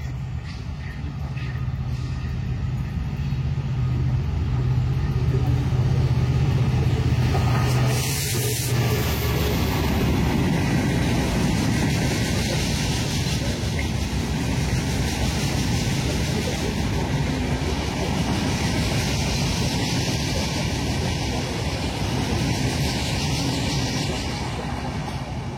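The Rupashi Bangla Express, running with a Sundarban Express rake, passes on its way to Benapole as a loud, steady rumble and rattle of wagons that holds for the full length, with a brief horn-like tone early on.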